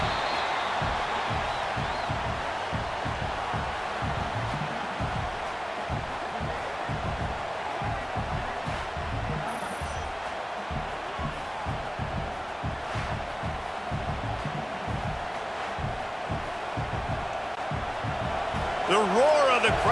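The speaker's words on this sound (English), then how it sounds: "The roar of the crowd trying to fuel this defense to keep them pinned in their own end" Stadium crowd in College Football 26 during a simulated LSU vs Arkansas game, a steady, broad roar that holds throughout while a commentator talks over it.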